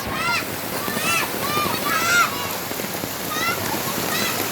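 Heavy rain pouring down during a flood, a dense continuous hiss of water with rushing surface noise, loud and close, with bird chirps or squeaks cutting through intermittently.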